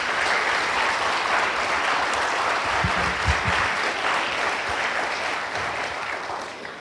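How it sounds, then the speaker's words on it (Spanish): A church congregation claps steadily through a Spanish-language service, a continuous wash of applause at moderate level that holds evenly and tapers gently at the end. "Dale un aplauso al Señor, Él es fiel."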